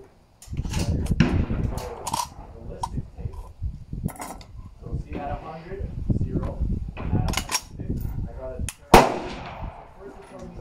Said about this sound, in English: Today we are going to test the SKS rifle made in the Soviet era at a 100 yard range.